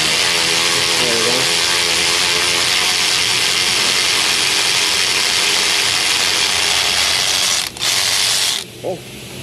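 A ratchet turns a thread tap in the spark plug hole of a 1999 Ford F450 6.8 V10 cylinder head, making a continuous close clicking and grinding with a couple of brief breaks near the end.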